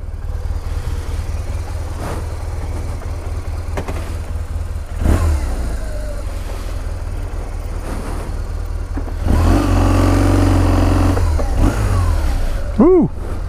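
A motorcycle engine with a new tire idles with a steady low rumble, then revs louder as the rider sets off, ending in a rising whine as it pulls away, close and alone.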